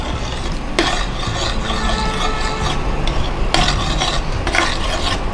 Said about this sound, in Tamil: இது விடாமல் கிண்டிகிட்டே இருக்கணும்.